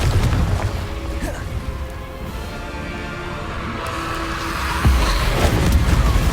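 A Confringo blasting spell goes off in Hogwarts Legacy, a booming burst with crackling roar and whooshing tail, loud and close amid ongoing game effects, with a second heavy impact near the end.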